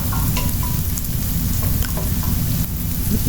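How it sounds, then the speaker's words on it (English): Chopped green chilies and garlic sautéing in a hot pan for an Indo-Chinese mushroom masala, a steady close, loud sizzle and crackle with no pauses. "Saute it once again"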